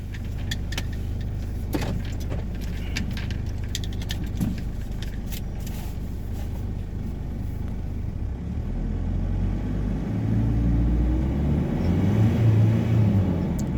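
Engine of an automatic Ford Ranger with a P0093 large fuel leak fault idles with a low, steady rumble, then revs up in the second half into a louder, rising drone that holds near the end.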